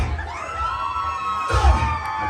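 Concert audience in London, Ontario screaming and cheering after a performance, a dense crowd roar with shrill voices that swells louder near the end of the short burst.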